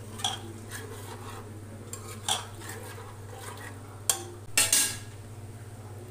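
A spoon scrapes and knocks against a pressure cooker pot in sporadic strokes while rice and paneer for vegetable pulao are gently stirred, over a low steady hum, with a couple of sharper clinks.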